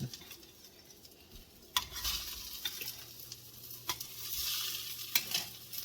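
Bean cakes sizzle in a frying pan, a soft continuous crackle of hot fat punctuated by several sharp scrapes and taps of a utensil against the pan, with no talking.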